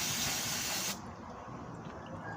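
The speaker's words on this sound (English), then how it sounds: "take some carb cleaner and just spray it in there" Carb cleaner sprayed from an aerosol can into a push mower carburetor: a close, loud continuous hiss that cuts off abruptly about a second in, followed by quiet shop background.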